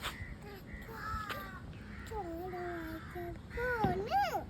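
A crow caws a few times at a distance, mixed with a small child's babbling and a voice nearby, fairly faint overall.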